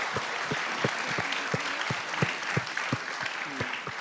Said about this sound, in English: Let's all raise a round of applause for all our unit secretaries and designees who are here with us at...